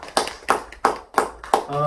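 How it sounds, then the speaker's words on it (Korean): A church congregation claps in a slow, steady rhythm of five distinct claps during a Sunday Easter service, with a voice beginning to talk or sing at the very end. "은혜를 주신 하나님께 큰 박수로 영광 돌려드립시다."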